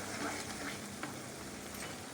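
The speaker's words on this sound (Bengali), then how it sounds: "মশলাটা ততক্ষণই কষাতে থাকবো যতক্ষণ না মশলা থেকে খুব ভালোভাবে তেল ছাড়ছে" Masala spices frying in oil while being stirred, a soft continuous sizzle with occasional faint scrapes, quiet and close, with no voices.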